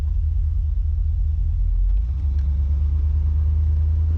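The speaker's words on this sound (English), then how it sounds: "let's go out for a road test here" Steady low engine rumble of a 1982 Corvette driving along, heard from inside, with continuous road noise and no talking.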